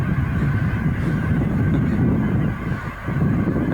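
A large flock of geese honks loudly and continuously, many overlapping calls forming a dense, noisy chorus.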